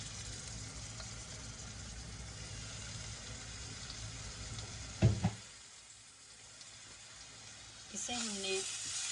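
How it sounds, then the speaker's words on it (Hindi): Garlic paste frying in a few tablespoons of oil in a pan, a steady soft sizzle that runs most of the way and dips near the end, with brief clinks of stirring and a louder burst of sizzle returning at the close. "गार्लिक को हमने इतना फ्राई करना है कि ये इसकी रॉ स्मेल ख़त्म हो जाए"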